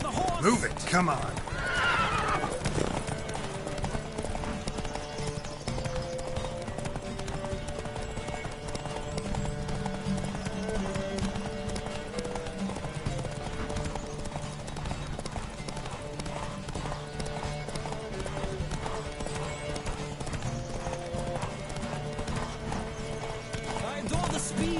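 Horses gallop in a race in The Witcher 3, a steady dense clip-clop of hooves running throughout with occasional neighs and whinnies, loud and close, mixed with game music and a voice speaking over it.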